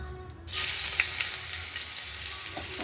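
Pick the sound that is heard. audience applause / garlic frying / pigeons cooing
garlic frying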